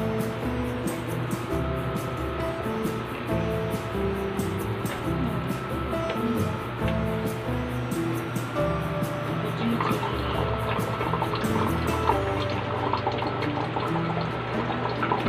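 Water gushes steadily from a newly opened valve on a homemade, electricity-free aerator built from recycled material, a continuous close rush with faint clinks over a low hum.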